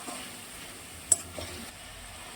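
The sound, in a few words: stirring hot tempering with valor beans in pan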